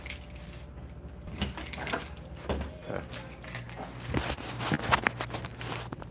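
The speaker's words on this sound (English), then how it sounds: "I'm just gonna lock my doors up and then." Keys jangle and clink in short metallic bursts while doors on a bus are being locked, mixed with footsteps and small mechanical clicks at close range.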